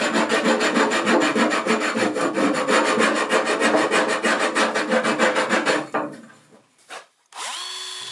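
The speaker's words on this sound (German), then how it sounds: "also nehme ich die Raspelscheibe vom Winkelschleifer als Handwerkzeug" An angle grinder's rasp disc worked by hand across a large walnut bowl gives rapid, rhythmic coarse scraping strokes, loud and close, then stops abruptly with a few brief scrapes and a final short burst.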